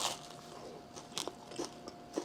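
Teeth bite into the crispy crust of a freshly baked Costco pizza, giving a handful of short, sharp crunches close to the mic, fairly quiet, with no talking.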